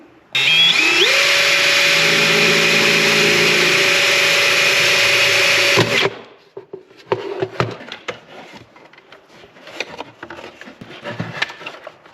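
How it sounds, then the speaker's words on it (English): A power drill whirs steadily at high speed for several seconds while drilling a hole in the center console of a 2017 Ford F-150, then stops abruptly, followed by scattered knocks and rustling handling noises. "we're going to try to drill a hole right there's my spot"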